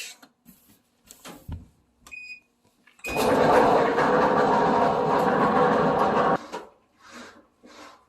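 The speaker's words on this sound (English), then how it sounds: "Another problem with the dryer, making a lot of noise." A Whirlpool Cabrio clothes dryer, running empty with a worn roller, gives a loud, steady rumbling roar with a grinding rattle for about three seconds, then cuts off, with quieter clatter before and after.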